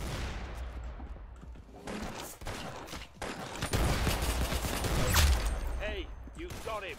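Shotgun gunfire in the Roblox video game, a burst of sharp game shots at moderate loudness mixed with voices talking over it.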